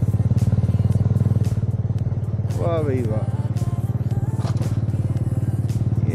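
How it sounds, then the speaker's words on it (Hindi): Motorcycle riding downhill on a mountain road near Murree, a steady close engine drone with rhythmic pulsing, with someone talking excitedly over it. "बाइक भी मज़े से जा रही है।"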